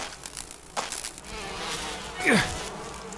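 Bees in Resident Evil HD Remaster swarm with a buzzing drone under game noise, punctuated by a couple of thudding hits and a sharp crackling squeal near the end.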